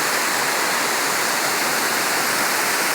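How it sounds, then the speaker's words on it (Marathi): Water rushes steadily from an overflowing dam outdoors, a loud, even broadband roar with no pauses and no voices. "ते धरण ओव्हरफ्लो झालेलं आहे ना, त्यामुळे इथं पाणी तो पाणी कमीच जातो."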